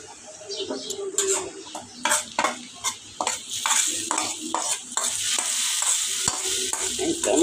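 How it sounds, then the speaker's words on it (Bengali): Dal being tempered in a hot pan, frying with a steady sizzle while a utensil stirs and scrapes in repeated strokes, close and fairly loud, with occasional clinks of metal cookware. "এখন আমি ডালটা বাগার দিব।"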